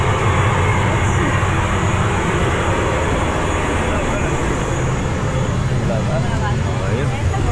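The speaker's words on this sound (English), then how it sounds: "It is one of these old propeller jets." Steady droning roar of an old propeller aircraft engine heard from inside the cabin in rain, loud and constant, with a voice faintly underneath.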